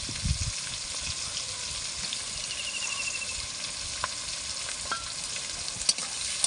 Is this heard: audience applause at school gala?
no